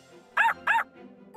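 A cartoon puppy gives two quick, bright yaps in close succession, loud and clear, followed by softer background sound.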